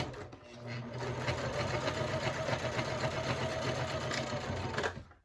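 A domestic sewing machine runs steadily while top stitching a Boronia Bowler bag, a close continuous mechanical whir and hum lasting about five seconds before stopping abruptly.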